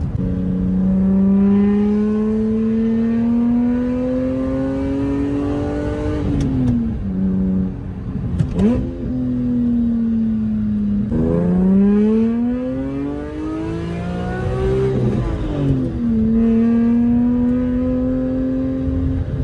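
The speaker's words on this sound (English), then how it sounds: "Listen to how good this car sounds." A BMW E46 M3 with a Valvetronic Designs valved sport exhaust revving hard in long sweeping pulls, its exhaust note climbing and dropping several times, loud and close with a deep raspy tone.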